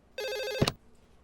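A single short telephone ring sounds loud and close, a bright buzzing tone lasting about half a second and ending in a sharp click, then quiet.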